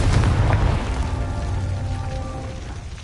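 A Confringo blasting spell goes off in Hogwarts Legacy, a deep booming explosion right at the start that rumbles and decays over a few seconds beneath a steady hum of game ambience.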